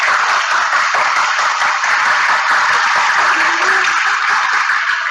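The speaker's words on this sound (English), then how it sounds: "So join me in giving them a round of applause." A live open house audience gives the dancers a round of applause after their performance, a constant, loud wall of clapping and crowd noise holding steady from start to finish.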